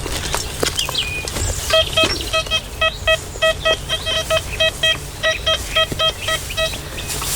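A metal detector emits a rapid series of short, clear electronic beeps in rhythmic bursts, repeating steadily over outdoor background noise where a find is being dug out.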